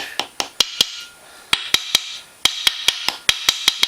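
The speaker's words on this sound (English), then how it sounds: "You can take your hammer and tap this thing down in there." Sharp metallic hammer taps driving a seal into place on a Honda Recon 250 ATV's rear differential, about fourteen, struck in quick uneven bursts with short pauses between groups, close and fairly loud.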